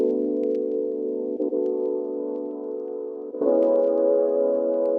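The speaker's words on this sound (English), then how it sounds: "Without the auto pan, the chords would sound like this." Jazzy lofi house synth chords played dry and centred with no auto-pan movement, sustained pads held steadily and shifting to new chords twice, loud and alone.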